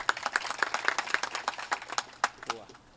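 Rhythmic hand clapping from a kirtan devotional gathering, sharp evenly spaced claps keeping a steady beat with voices mixed in around them.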